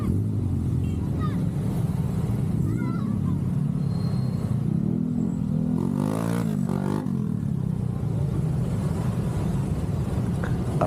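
Car and motorcycle traffic on a road, a steady loud engine rumble throughout with a passing vehicle swelling around the middle, faint voices in the background.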